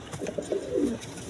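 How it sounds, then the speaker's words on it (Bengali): Pigeons at a bird sale, several soft throaty coos rising and falling close by over about a second, mid-loud with faint background noise and no talking. "দেখেন কত ছটপটা কবুতর"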